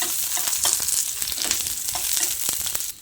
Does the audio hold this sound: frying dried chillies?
yes